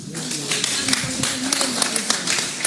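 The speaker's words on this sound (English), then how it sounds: "A round of applause for the 2" An audience at a herbal book launch claps for two panelists, individual claps ringing out in an uneven, fairly close patter, with voices mixed in under the clapping.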